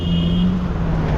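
Vehicles idle and creep in a city traffic jam, with a steady low engine rumble, a brief high whine and a faint tonal hum, all close and continuous with no talking.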